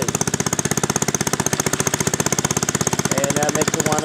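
An old Planet Junior garden tractor engine runs close by, making a loud, rapid, even chugging that barely changes, with a voice faintly underneath toward the end.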